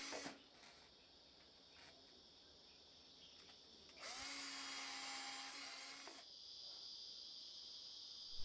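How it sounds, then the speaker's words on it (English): A power drill with a 5mm bit bores into anchor posts for a stainless wire balustrade. The whine is brief and steady, rising between a fainter background hum and dropping away after about two seconds. "you may drill it out using a 5mm drill bit"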